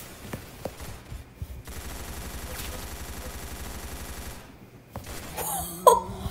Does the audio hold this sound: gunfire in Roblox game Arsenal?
yes